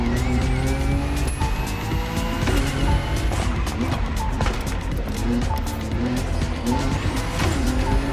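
A car drifts in The Crew Motorfest, its engine roaring steadily under long, wavering tire squeals. The sound is loud and continuous, with faint voice-like traces in the mix.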